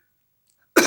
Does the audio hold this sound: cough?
yes